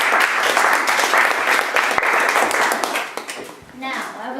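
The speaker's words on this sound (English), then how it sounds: "Give them a big round of applause." An audience of students applauds after student speeches, a dense burst of clapping that fades toward the end as voices, including children's, begin talking.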